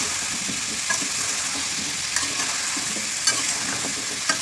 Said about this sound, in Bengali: এভাবে অনবরত নেড়ে যেতে হবে।